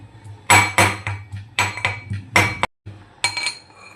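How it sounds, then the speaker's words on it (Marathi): Repeated sharp metallic clinks of cardamom being pounded in a mortar, several strikes in an uneven rhythm, close and fairly loud. "दूध तपेपर्यंत आपण इलायचीला छान असं कुटून घेऊया"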